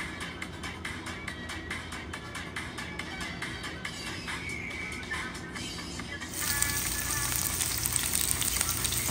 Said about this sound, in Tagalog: inigisa po natin ang ating bawang at ang ating sibuyas